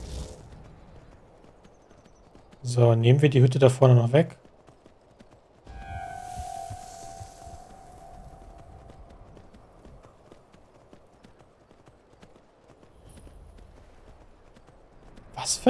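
Summoned horse in the Skyrim video game clip-clopping in a short burst of hoofbeats, loud and close, followed by quieter game ambience while someone talks.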